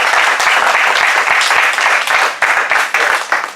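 Loud, close applause at a Toastmasters club meeting after a member's first turn as Toastmaster, dense clapping from a small room of people with a few sharper individual claps standing out near the end.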